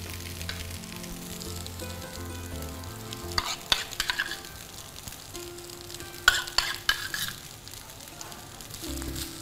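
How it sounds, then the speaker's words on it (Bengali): Rice frying with ghee in a pan while being stirred, a continuous sizzle broken by clusters of sharp spoon scrapes and clinks. "আমরা সামান্য স্বাদ আর ঘ্রাণের জন্য একটু ঘি দিয়ে দিব।"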